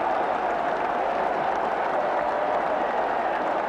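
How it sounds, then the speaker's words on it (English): A packed cricket ground roars and applauds after a bowler completes a hat-trick, taking four wickets in five balls in a 1977 match. Dense, steady cheering and clapping fill the whole stretch at full volume with no break. "the crowd again has gone mad"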